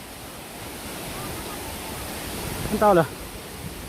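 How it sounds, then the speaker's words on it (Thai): Steady broadband rush of a waterfall along a forest hiking trail at Sun Sia, close and continuous throughout, with a brief voice speaking over it near the end. "นี่ครับเจอแล้วครับน้ำตก"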